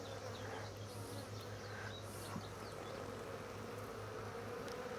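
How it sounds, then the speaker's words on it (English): Honey bees buzzing in a hive during a hive inspection, a faint, steady low hum with a continuous drone throughout and no speech. "Bees all look good."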